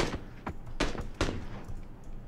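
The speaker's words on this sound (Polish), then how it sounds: "Dante zebrał kilka strzałów" Gunfire in PlayerUnknown's Battlegrounds, a duo tournament match: three or four sharp, fairly faint reports spaced irregularly over a low background bed.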